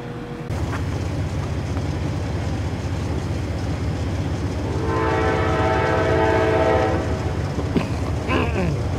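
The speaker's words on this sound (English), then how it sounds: "Comes the Amtrak" An Amtrak passenger train rolls through Huntingdon, its loud rumbling passage building steadily as the horn sounds a long, bold blast midway through.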